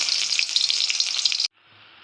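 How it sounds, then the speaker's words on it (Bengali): A large onion frying in hot oil in a home kitchen pan, a loud, even sizzle that continues steadily and then cuts off abruptly, leaving a faint hiss. "এবার আমি একটা বড় সাইজের পেঁয়াজ ভেজে নেব।"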